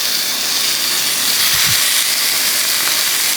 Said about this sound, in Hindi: ये बेसिकली सीरिंग की आवाज़ है